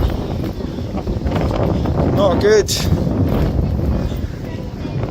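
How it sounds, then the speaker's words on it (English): Wind buffets the microphone in a steady rushing roar as a person speaks briefly over it, outdoors at a probation office in Stevenage, UK. "Oh, it's windy."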